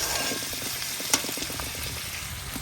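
Dried loitta fish frying with onion and garlic in a pan, a steady close sizzle with light stirring scrapes and one sharp utensil clink, no voices.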